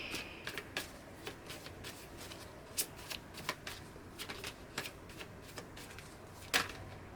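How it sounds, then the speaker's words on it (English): Oracle cards are shuffled by hand in a series of crisp, close riffling snaps and flutters that come in irregular bursts over a low, steady background, with no talking. "then we can pull some oracle cards"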